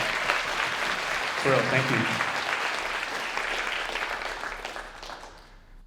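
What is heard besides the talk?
audience applause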